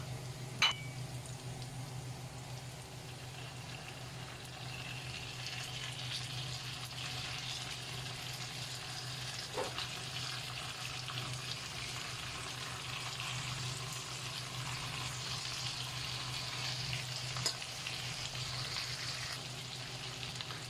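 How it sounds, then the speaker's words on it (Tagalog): Chicken sautéing in a pan with onion and garlic for a creamy chicken pastel, giving a steady low sizzle and frying hiss throughout, with a few faint clinks of utensils against the pan. "igigisa natin siya hanggang sa maging light brown din yung ating chicken"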